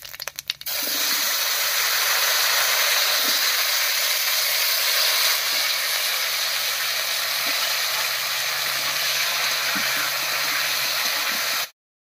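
Potato pieces dropped into hot oil with already fried cumin seeds, a sudden loud burst of sizzling that settles into a steady, close hiss lasting several seconds before cutting off.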